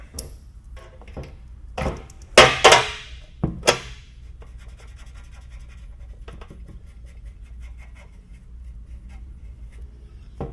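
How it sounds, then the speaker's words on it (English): Sharpie marker scratching and scribbling on a surface while struggling to write, a few short dry squeaky strokes close by, then quiet rustling handling noise. "Now the Sharpie won't even write."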